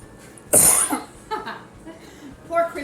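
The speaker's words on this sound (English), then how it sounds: "got a bad cough" One sharp, loud cough breaks through, followed by quieter throat sounds and soft voices in the background.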